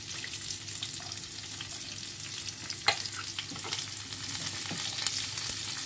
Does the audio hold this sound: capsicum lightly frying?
yes